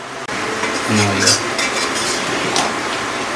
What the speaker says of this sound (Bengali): গুড় দিয়ে আম দিয়ে জাল দিচ্ছি